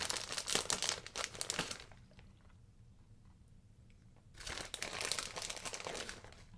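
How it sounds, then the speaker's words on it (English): Shredded jack cheddar cheese is sprinkled over bacon mac and cheese with dry, crinkly rustling in two bursts separated by a quieter pause. The sound is faint and close, with no talking. "I'm going to add some jack cheddar cheese to the top"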